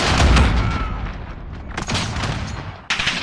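Explosions and gunfire from the Call of Duty Modern Warfare beta, a dense, loud barrage of booms and rattling shots that thins briefly before another sharp blast near the end.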